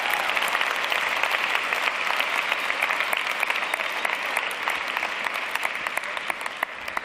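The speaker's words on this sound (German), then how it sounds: "Jetzt kann geklatscht werden." Audience applause in a German-language sermon setting, a dense, steady wash of many clapping hands lasting throughout at close, loud level, with no talk over it.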